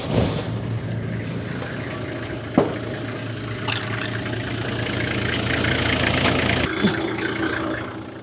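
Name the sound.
Toyota Land Cruiser engine started and idling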